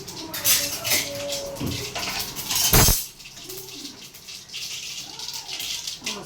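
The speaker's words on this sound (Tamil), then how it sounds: "கடுகு வேடிக்கும்." Mustard seeds splutter in hot oil with a loud, crackling hiss that peaks in one sharp burst, then settles into a quieter, steady sizzle.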